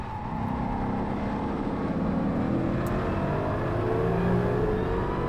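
A Ford Mustang GT500 engine drones loudly and steadily on a race track, its pitch sweeping upward as it accelerates, with a rumbling roar filling the scene.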